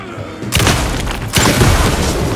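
Gunfire in the video game Alan Wake II, Night Springs DLC: two heavy, booming bursts of shots about a second apart, loud and close, each trailing into a dense rumbling wash.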